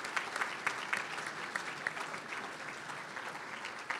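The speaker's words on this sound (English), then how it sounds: "So we thank our sponsors, and a round of applause for them." Audience applause at a leadership dinner for the event sponsors: a continuous patter of many hands at moderate volume, steady from start to end.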